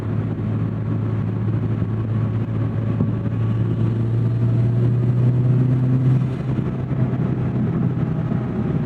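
A car engine drones steadily while driving, a constant low rumble with a slight rise in pitch midway, heard from inside the cabin with no talking.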